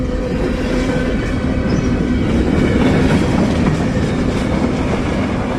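A freight train of auto racks, hoppers and tank cars rolls steadily past close by, a loud continuous rumble of wheels on rail with rhythmic clickety-clack and faint squeals.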